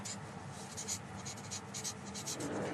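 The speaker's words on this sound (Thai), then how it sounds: "พี่เขียนเข้าแผ่นใหญ่ดีกว่" A pen or marker writing on a large sheet of paper in a classroom, a soft continuous scratching with short repeated strokes, close and fairly quiet over a low room hum.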